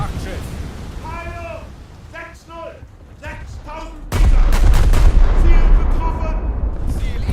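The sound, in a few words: battleship guns firing at a dreadnought in a naval video game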